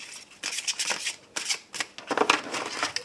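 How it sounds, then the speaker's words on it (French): Fairy oracle cards are shuffled by hand for a reading, giving close, quick papery riffles and slaps in several short bursts. "je commence mon tirage avec l'oracle des fées"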